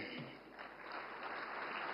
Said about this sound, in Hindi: हाँ, अब ताली बजी।